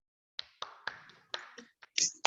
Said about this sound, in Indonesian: Minta tepuk tangannya dong buat yang sudah maju tadi untuk Nadia dan Arim.